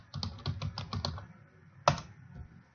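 Rapid keystrokes on a computer keyboard while relabeling text fields, a quick burst of close clicking taps that pauses, followed by one sharper isolated key press near the end.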